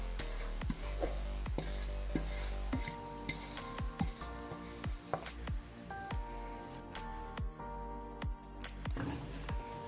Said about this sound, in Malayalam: പച്ചമണം മാറുന്നിടം വരെ ഒന്ന് വഴറ്റി കൊടുക്കാം